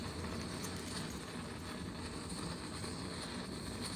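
A torch heats the tinned end of a wire for a pool grounding job, giving a steady, close roaring hiss that holds at an even level without breaks.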